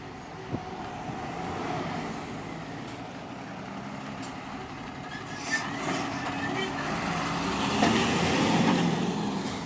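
A heavy truck rumbles past on a road in Plean, Stirlingshire, Scotland, its engine swelling and fading over several seconds, with a faint hiss of brakes and steady traffic noise.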